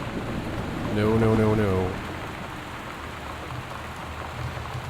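Steady rain pours throughout a thunderstorm in the game Gone Home, a dense wash of drops with a low rumble underneath, while a voice briefly protests over it.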